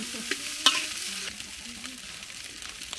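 Fried rice being stir-fried in Cambodian home cooking, a soft hiss of frying with a sharp utensil scrape or clack near the start, then quieter steady sizzling and scraping, no talk.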